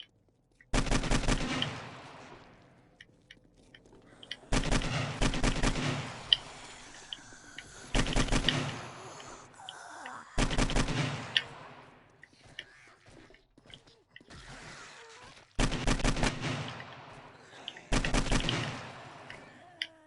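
Automatic gunfire in the survival video game 7 Days to Die during a horde night, loud sustained bursts repeating every few seconds with brief pauses between, dense and close.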